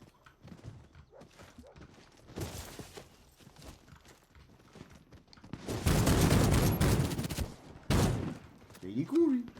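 Video-game gunfire in Warface, first as scattered shots and then as a loud, sustained burst of rapid fire with a second short volley after it. A voice is heard faintly near the end.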